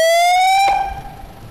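Security alarm siren with a loud, steady electronic tone that rises slightly in pitch. It cuts off abruptly partway through and leaves quiet background noise.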